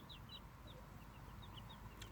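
Chicks about one and a half weeks old, hatched in an incubator, give soft high cheeps and clucks scattered through a quiet, faint background murmur.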